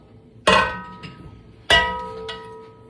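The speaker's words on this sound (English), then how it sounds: "Sorry about the banging of the pan." Two sharp metallic bangs about a second apart as a pan of jelly is scraped out with a spatula, each followed by a lighter tap, with the pan's ringing fading between them.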